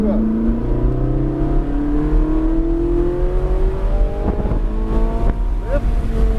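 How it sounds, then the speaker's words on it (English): A Ferrari engine rising in pitch as the throttle is rolled on, a loud, close, continuous climbing drone with wind buffeting and a brief voice near the end. "get ready to roll in the throttle, roll in now"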